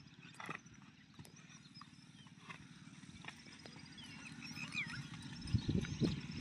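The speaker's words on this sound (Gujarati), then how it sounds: "ઘોડો લંગડો હાલે છે" A lame horse walks slowly, its hooves clopping in a steady low rhythm that grows a little louder and denser toward the end, with the faint hiss of open country around it.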